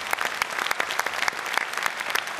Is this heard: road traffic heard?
no